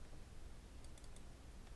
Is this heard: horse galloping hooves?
no